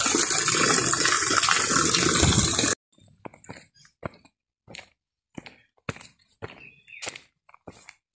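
Water rushes steadily along a hiking trail for a few seconds, then stops, leaving scattered footsteps and short scuffs on the path.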